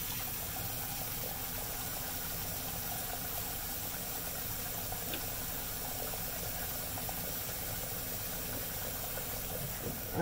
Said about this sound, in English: wash out the razor. Wash off the blade.